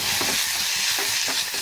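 About a teaspoon of oil sizzling in a hot pan while chicken coconut milk curry is being made, a loud close continuous hiss with soft periodic stirring scrapes.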